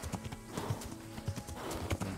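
In Kingdom Come: Deliverance, a ridden horse gives a short whinny over steady clip-clopping hooves. The hoofbeats stay close and rhythmic, with the neigh standing out briefly near the middle.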